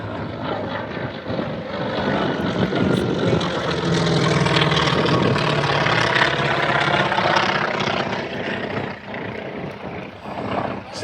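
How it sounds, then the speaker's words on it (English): A jet aircraft passes at a Vietnam-themed airshow in Midland, Texas, a loud sustained engine roar swelling and holding before easing slightly, with faint crowd sounds underneath. "Jet's coming."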